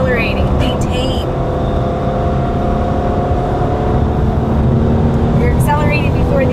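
A 2014 Cadillac CTS twin turbo runs on the Mosport racetrack, its engine a steady loud drone with a faint whine throughout, heard from inside the cabin with no break.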